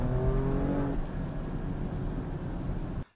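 An Alfa Romeo Stelvio Quadrifoglio 510 hp SUV accelerates at full throttle with its exhaust valves open, a loud, close engine roar rising briefly in pitch, then a sustained rumbling drone before cutting off.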